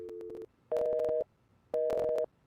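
A telephone busy signal from a Nancy Drew video game repeats in clean electronic beeps, each about half a second long with short gaps between them, heard alone.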